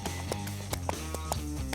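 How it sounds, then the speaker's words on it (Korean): Hooves of a Jeju pony clip-clop in an uneven rhythm as a rider enjoys a leisurely ride on a Jeju farm, with sharp, fairly close taps standing out over steady low background noise. "그때 경쾌한 말발굽 소리를 내며 승마를 즐기는 한 사람."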